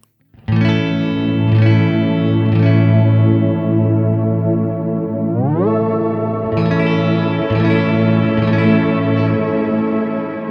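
Ambient guitar runs through a reverb pedal with reduced bit depth. Long sustained chords shimmer with a gritty, chorus-like wash, then a rising pitch glide shifts into a brighter held chord, heard alone.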